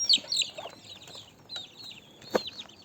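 A young chicken clucks and peeps in a few short, high chirps near the start and again later, close by, with faint chick cheeping in the background.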